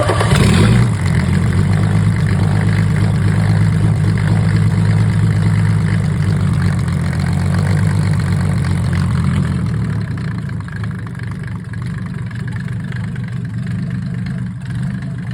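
A Mercedes OM603 diesel with a mechanical injection pump runs steadily in frosty weather, a loud, close, continuous low idle with a rough diesel clatter. It settles slightly quieter toward the end, and no one talks.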